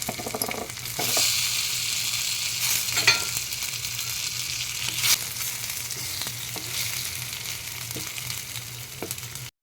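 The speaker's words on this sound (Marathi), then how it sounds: "अशा थोड्याशा तेलातसुद्धा भाडू भाजून काढू शकतो तर मी थोडेसे तेलातच घालते" Steamed taro leaf rolls shallow-fry in a little oil with a constant crackling sizzle close by, and occasional soft spatters and stirring clicks rise above the steady hiss.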